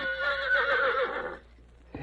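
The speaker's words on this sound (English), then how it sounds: "Young Jack Turner stood beside his father, admiring a beautiful black horse" A black horse gives one loud, close whinny lasting over a second that trails off into quiet, followed by a faint knock.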